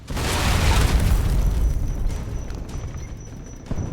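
A grenade goes off in the video game Alpha Protocol, a loud, close blast with a deep rumbling body that slowly fades over several seconds.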